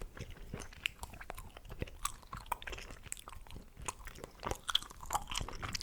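Close, wet chewing of chewing gum with soft crunchy clicks and smacks repeating steadily, no talking.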